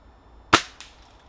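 An air rifle fires once at a Hunter Field Target championship: a sharp, close crack followed by a fainter knock, set against quiet outdoor background.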